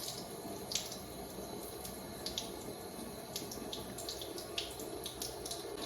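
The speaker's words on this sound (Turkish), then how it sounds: "yüzümü hemen şununla şırıl şırıl şırıl yıkayıp geliyorum" Tap water runs from a faucet while someone washes their face, a steady, fairly soft hiss broken by small splashes and drips throughout.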